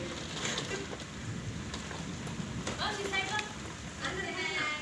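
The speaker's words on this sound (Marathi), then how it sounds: "तुफान तुफान पाऊस आहे पाणी पाणी केलंय बाहेर" Heavy, unseasonal rainstorm with strong wind pours outside a house window as a dense, continuous hiss and patter, fairly close and steady throughout.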